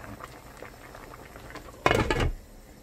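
Braised mackerel with potatoes boils in a covered pot over high heat, with a steady close bubbling and a louder burst of rattling, sputtering boil near the end.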